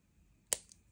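Square dead soft copper wire is snipped by cutters while wrapping a teardrop stone, giving one sharp close click followed by a lighter tick and another snip at the very end.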